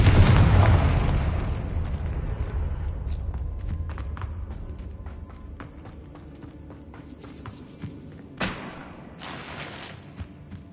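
A Confringo spell explosion in the Hogwarts Legacy video game goes off as a loud, heavy blast right at the start and fades into a long rumbling tail, followed later by scattered crackles and a short sharp burst.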